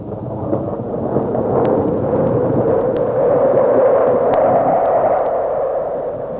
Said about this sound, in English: I only just heard the alarm clock above the noise of the rain and thunder.